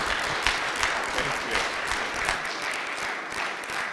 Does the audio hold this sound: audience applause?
yes